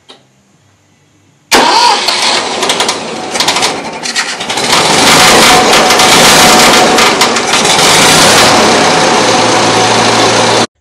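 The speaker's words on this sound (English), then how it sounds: "I literally hit the starter button just literally seconds after I said that" A 1972 Ford 2000 tractor engine with electronic ignition is cranked and starts after a quiet pause, then runs loudly and roughly close by, settling into a steady rumbling idle.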